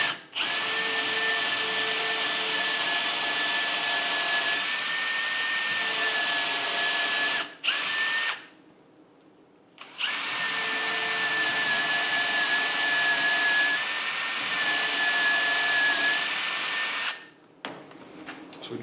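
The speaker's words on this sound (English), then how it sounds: "So we drilled 2 holes" A power drill boring two holes into wood for white oak dowels in an Arts & Crafts settee, loud steady whine running for about seven seconds, a short pause, then a second equally long burst.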